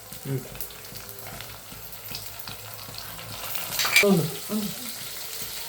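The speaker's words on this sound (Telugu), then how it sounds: "ఇవి బాగా నూనెలో వేగాలి." Capsicum and tomato fry in oil in a pan for upma, giving a soft, steady sizzle with a few louder clatters and stirring scrapes near the end.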